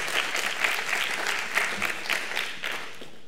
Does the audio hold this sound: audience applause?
yes